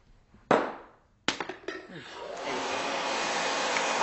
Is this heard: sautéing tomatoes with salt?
no